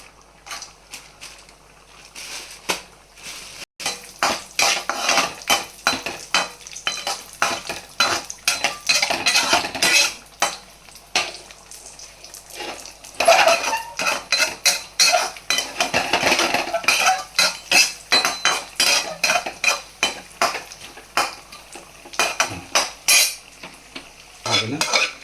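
Cashews and raisins frying in a pan for carrot kheer, heard as rapid metal spoon scrapes and clatters against the pan over a low sizzle, close and busy throughout, with no talking.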